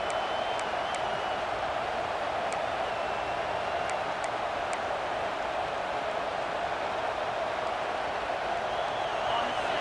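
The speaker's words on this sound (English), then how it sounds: "This crowd, full throat, splitting the eardrums and letting them know it's going to be a long day." A stadium crowd roars in the college football video game EA Sports College Football 26, a steady, full-throated wall of cheering that holds at a constant level throughout, with a few faint sharp clicks on top.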